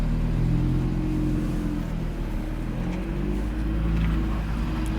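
A three-door Audi RS3 drives along with a steady low engine rumble and road noise, heard from inside the car, continuous and fairly loud with no speech.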